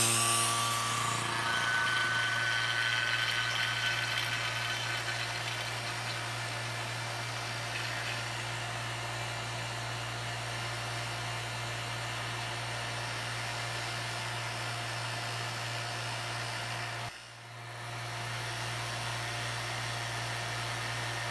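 HVAC vacuum pump evacuating a refrigeration system through a quarter-inch hose, a steady loud motor hum with a constant low drone, briefly dipping near the end before resuming.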